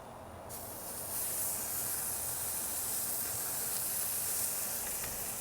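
Seasoned steak searing in a hot pan, a loud sizzling hiss that bursts in after a brief quiet moment and then holds steady and close throughout.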